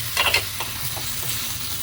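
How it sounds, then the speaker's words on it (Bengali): Beaten eggs for egg bhurji stirred over low flame in a sizzling pan, a steady close frying hiss with a few scraping strokes near the start. "লো ফ্লেমে কন্টিনিউয়াসলি স্টার করলে সফট ক্রিমি ভুর্জি হবে।"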